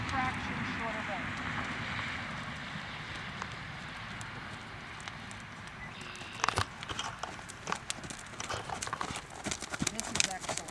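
A horse's hooves thud and clip-clop at walk and trot during a riding lesson, soft and rhythmic beneath an instructor's continuous talking, with a few sharper knocks later on.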